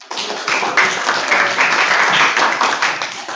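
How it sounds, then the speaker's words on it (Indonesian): Students in a high school maths classroom clap together for everyone, a loud, dense burst of many hands that continues evenly for a few seconds with slight swells. "Oke, tepuk tangan untuk semuanya."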